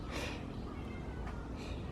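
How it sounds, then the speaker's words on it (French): A black cat on a street in Kyoto gives a faint meow or two against steady, hissy background noise, distant and brief. "Il y a un chat noir"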